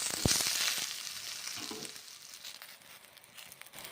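Eggplant pieces frying in oil in a pan, a steady soft sizzle with a sharp tap at the start and faint stirring scrapes, fairly quiet and close.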